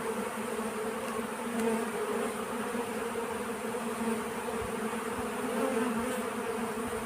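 Honeybees buzzing at an open hive among frames storing nectar, a continuous close, dense hum with steady pitch that stays even and loud throughout.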